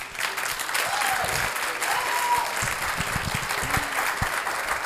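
Church congregation applauding a speaker at a Sunday service, a steady, dense wash of clapping from a crowd that holds throughout, with a few voices murmuring underneath.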